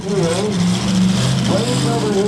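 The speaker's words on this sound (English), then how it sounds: "still trying to get his car going" At a demolition derby, a car engine revs and strains as the driver tries to get it going, loud and continuous beneath an announcer's commentary.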